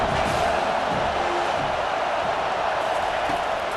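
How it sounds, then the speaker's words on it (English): A roaring home crowd in EA Sports College Football 25 keeps up a dense, steady wall of cheering noise for the whole stretch, loud and unbroken with no single voice standing out. "how nice is it to have the home crowd going absolutely bananas"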